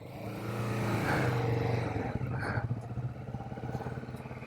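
A Royal Enfield Meteor 350 motorcycle rides off at a sports complex, its engine rising to a close, steady throbbing rumble that then settles into a lumpy idle-like beat, with no talk.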